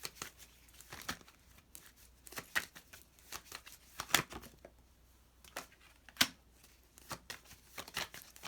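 Tarot cards are shuffled close by in irregular bursts, sharp riffling flutters and slaps separated by quieter pauses, a few louder snaps standing out.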